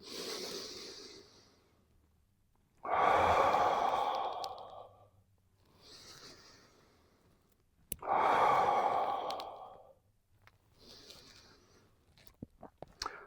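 Slow, deep breaths during a neck and shoulder stretch, heard alone as two long, loud exhalations alternating with softer inhalations at a steady, unhurried pace.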